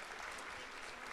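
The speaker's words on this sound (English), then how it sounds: "Let's give them a round of applause." Audience applause for presenters at a Fargo startup pitch event, a dense, steady wash of clapping filling the whole moment at a moderate distance.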